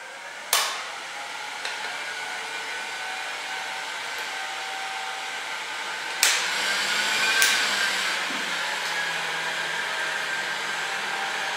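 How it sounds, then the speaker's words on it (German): A hair dryer or heat gun blows steadily on adhesive window film stuck to glass, a continuous whirring hiss broken by a few sharp clicks and taps. "Dazu nehmen wir jetzt unseren Föhn oder Heißluftföhn."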